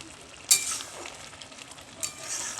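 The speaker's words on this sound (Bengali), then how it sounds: "ঘি দিয়ে আবারও ভালো করে মিশিয়ে নিচ্ছি" Ash gourd mixture being stirred with ghee in a pan, giving a soft sizzling, scraping texture with two sharper utensil scrapes against the pan, close and fairly quiet.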